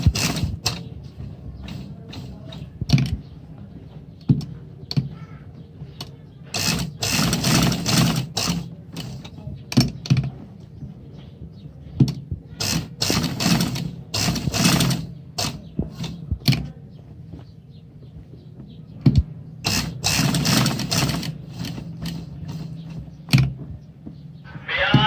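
Sewing machine stitching round seams on a gents shalwar kameez, running in repeated bursts of rapid mechanical whirring with pauses between, close and fairly loud, with no speech over it.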